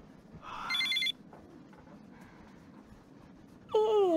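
A mobile phone ringtone chimes in two short bursts, a steady tonal ring near the start and a sweeping electronic tone at the end, with a quiet room and faint noise between them.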